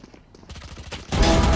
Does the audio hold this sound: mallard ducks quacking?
no